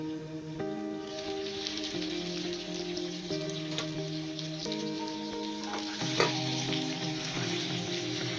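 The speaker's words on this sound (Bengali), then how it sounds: "ভালোভাবে নাড়াতে হবে।" Bottle gourd and shrimp curry with lentil dumplings sizzles steadily in a pan while being stirred, a continuous frying hiss with scraping under sustained musical tones.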